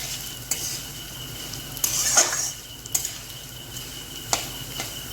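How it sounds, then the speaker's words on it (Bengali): Moong dal fries dry in a pan while being stirred, a steady sizzle broken by sharp scraping and clinking strokes of the spatula at irregular intervals, close and clear with no talking. "একটু ভাজা ভাজা হলে ডালটা, এর মধ্যে আমি চালটাও দিয়ে দেব।"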